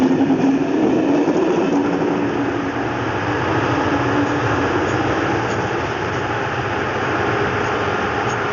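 A train rumbles steadily along the tracks, a loud continuous roar with a faint rhythmic clatter, close by and without voices.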